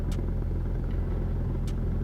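A Cessna aircraft engine runs up toward full power for the takeoff roll, a steady low droning rumble that stays even and continuous with no voices.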